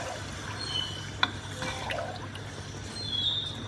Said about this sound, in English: you can add in the water